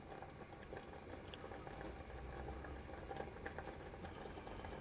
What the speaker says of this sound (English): So that's just beginning to boil now